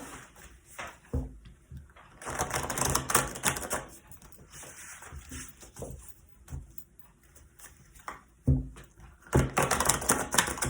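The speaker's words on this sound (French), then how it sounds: "Je brasse parce que je m'en sers beaucoup là en ce moment" Tarot cards being shuffled by hand, soft papery riffles and shuffling bursts recurring in several bouts, close and moderately loud with no talk.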